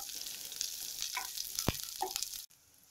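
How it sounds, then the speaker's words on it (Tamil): Curry leaves and green chillies fry in hot oil in a pan for beetroot poriyal, giving a bright, steady sizzle with a couple of brief stirring clinks and pops near the middle before it cuts off abruptly. "சேர்த்துட்டு எல்லாத்தையும் நல்லா வறுத்து வச்சுக்கலாம்."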